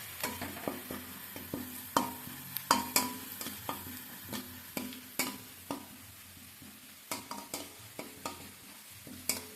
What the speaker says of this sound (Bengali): শুকনো মেথি শাক, কসুরি মেথি আমি তেলের পরে দিয়ে দিলাম।